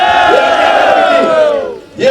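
A large crowd at a political rally in Gilgit-Baltistan, where the Chief Minister is speaking, chants slogans in loud unison, with drawn-out rising and falling voices and a fresh shout starting near the end.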